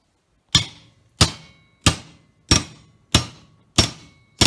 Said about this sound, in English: So he's taken the panel hammer.